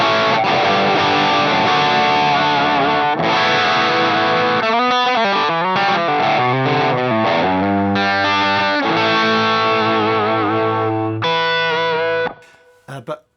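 Heavily distorted electric guitar with a hot pickup through a Line 6 Helix plays loud, sustained chords and riffs with a gritty, saturated tone, then cuts off abruptly near the end.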